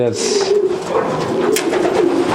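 Pigeons coo in a racing pigeon loft, a soft low rolling murmur that carries on continuously from nearby birds, with a faint flutter or rustle partway through.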